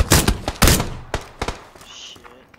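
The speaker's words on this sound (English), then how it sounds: "You hear those gunshots?" Gunshots in the battle royale video game PUBG crack out as a few loud, close bursts in quick succession, followed by sparser, quieter shots.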